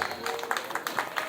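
An audience at a Shrimad Bhagwat katha gathering in Azamgarh claps in a brief, loose patter of hands, moderately near and not very loud, with no one speaking over it.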